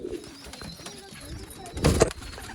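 Old line pigeons offered for sale coo softly and steadily, with a louder burst of cooing and wing or cage rustle near the end of a short stretch.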